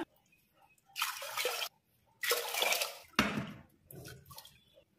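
Water pours in three separate bursts with short pauses between, splashing into a metal pressure cooker close by, followed by a softer trickle; four glasses of water for sambar rice.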